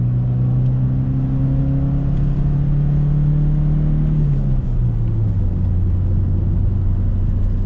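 A carbureted, naturally aspirated 2.0-litre Nissan engine pulls uphill in second gear, a steady droning rumble that rises in pitch as it accelerates, then drops briefly before climbing again, heard continuously from inside the car.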